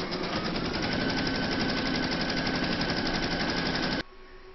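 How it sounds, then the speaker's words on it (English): An embroidery machine stitches a placement outline through layers of washaway stabiliser in a hoop, a loud, steady, fast mechanical hammering that runs evenly for four seconds and then stops abruptly. "pop your hoop into your machine and stitch round to number one for the placement outline"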